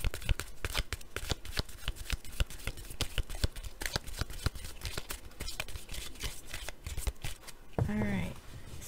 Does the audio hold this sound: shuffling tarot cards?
yes